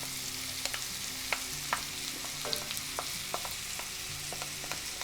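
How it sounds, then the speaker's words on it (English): Shallots and mushrooms sauté in a pan of oil, a steady soft sizzle broken by sharp clicks and scrapes of stirring, heard up close with no talking. "And I'm going to go ahead and add our shallots."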